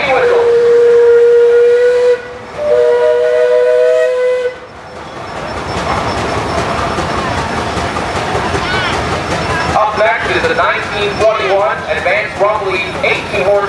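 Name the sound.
steam whistle of a Minneapolis steam traction engine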